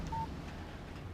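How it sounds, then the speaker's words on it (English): A brief electronic phone chime announces a text message in the video game Alan Wake, one short tonal beep heard faintly over a quiet game background. "Text message from Barry."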